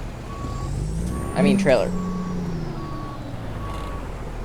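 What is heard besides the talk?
truck reversing beeps while backing up, American Truck Simulator video game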